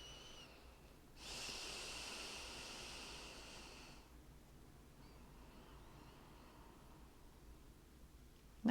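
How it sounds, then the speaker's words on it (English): Slow, deep breathing during a gentle upper-body yoga session, one long soft exhale clearly audible followed by quieter, faint breaths in a calm, hushed room. "And we'll take about 5 more breaths here."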